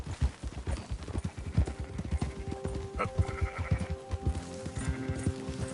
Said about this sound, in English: Can't you control that damn horse?